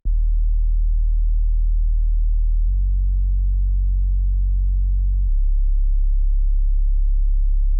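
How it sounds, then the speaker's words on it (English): Sustained Sublab synth sub bass holds deep low notes following a chord progression, changing pitch twice in long, steady tones with no other sounds. "we have this sub bass from Sublab"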